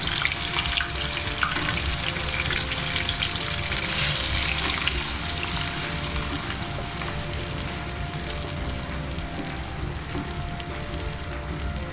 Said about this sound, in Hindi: एक मिनट इसको भूनती हूँ, फिर मैं इसमें प्याज डाल देती हूँ।